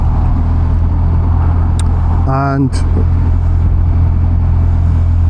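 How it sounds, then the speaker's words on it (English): Cars move along a road, one of them a Skoda, making a steady low rumble and hum throughout, with a brief rising whine partway through and a voice speaking briefly. "Look at all these cars moving, how wonderful is that"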